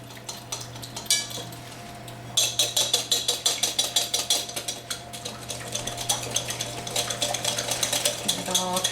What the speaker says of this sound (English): So put those, and then you're going to whisk it together.